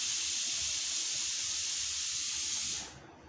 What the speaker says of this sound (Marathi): तेल गरम झालं की यावरती या टिक्क्या घालायच्या आहेत.